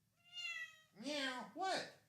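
A cat gives a few meows, close and clear: one long steady call followed by two shorter rising-and-falling meows, with no talk over them.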